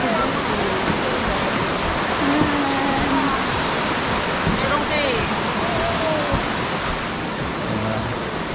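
Daranak or Batlag Falls in Rizal, a waterfall giving a loud, constant roar of rushing water that fills the whole scene, with faint voices mixed underneath.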